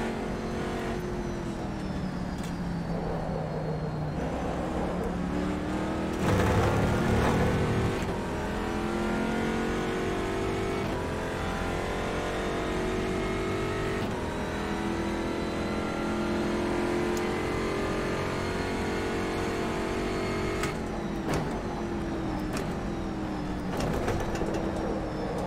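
A race car engine in rFactor 2 at a laser-scanned Sebring circuit revs and drones continuously for the whole stretch, rising and falling through the gears with sharp shift blips, loud and steady with no talking.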